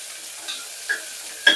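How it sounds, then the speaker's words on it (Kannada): Onions tipped into a tempering of chana dal and curry leaves for a bitter gourd palya sizzle quietly in the pan, a soft steady fizz broken by a few light stirring scrapes, with no voices. "ಕಡಲೆಬೇಳೆ ಎಲ್ಲ ಒಗ್ಗರಣೆ ಆದ ನಂತರ ಅದಕ್ಕೆ ಈರುಳ್ಳಿಯನ್ನು ಹಾಕ್ಕೊಳ್ಬೇಕು"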